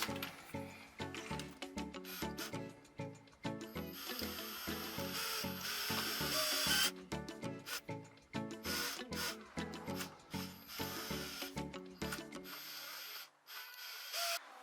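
A screw extractor twists out a stripped screw on a 2001–2005 Honda Civic during throttle position sensor replacement: rapid, close ratcheting clicks in dense bursts that stop near the end.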